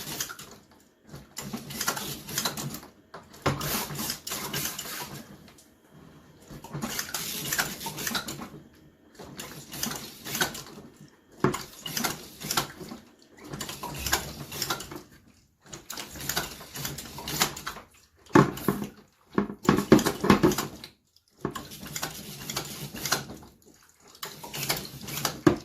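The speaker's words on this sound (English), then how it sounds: "as I'm pumping it in, it's starting to come out, so the meat is filling up with the brine" Beef silverside being pumped full of brine with a knapsack injector: repeated bursts of squirting, sloshing liquid in steady pumping strokes separated by short pauses, close and fairly loud with no talking.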